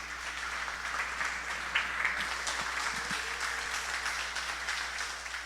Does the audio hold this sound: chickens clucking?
no